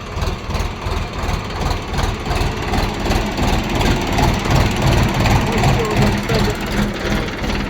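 A Dongfeng DTZ tractor's diesel engine chugs close and loud in a steady, rapid rhythmic pulse at a tractor sales lot, with someone talking over it.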